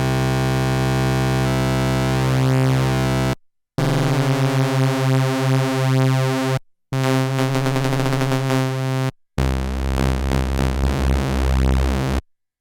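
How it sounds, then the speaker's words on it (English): A Korg Prologue synthesizer drones through four sustained sections separated by short gaps, using cross modulation, oscillator sync and ring mod to make buzzy, metallic, shifting timbres with sweeping harmonics, loud and without speech. "one of the cool features of this synth is that it has a very easy access to cross modulation"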